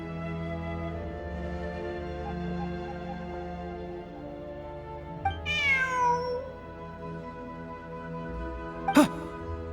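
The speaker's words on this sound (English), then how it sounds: "Look, a cat." A cat in Genshin Impact, met during the Sumeru event, gives a clear descending meow at mid-clip and a short sharp cry near the end, both heard over a steady game music bed with no talk.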